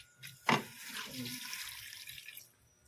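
Water pours into a pot of chicken feet with a sudden splash, then a steady rushing stream for about two seconds before stopping.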